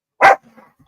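A single loud, sharp dog bark rings out nearby, followed by a few faint, soft sounds fading into near silence.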